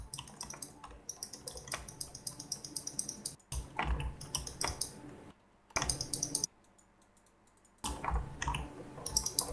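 Rapid keyboard typing and mouse clicking during a Minecraft session, close and crisp, in bursts broken by brief quiet gaps, with no talking.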